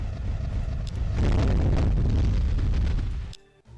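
Heavy rumbling explosions from planet bombing in the space strategy game Master of Orion 2, a loud continuous roar with bursts that swells in the middle and then cuts off abruptly near the end.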